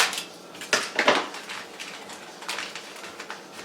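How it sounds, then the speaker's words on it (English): A knife cuts through the sides of baked yuca pasteles, giving a few soft, close clinks and scrapes against a plate. Two louder strokes come early, then lighter taps follow, with no voices. "what I'm going to do is just cut the sides"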